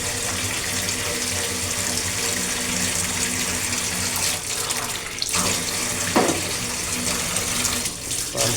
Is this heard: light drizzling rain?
no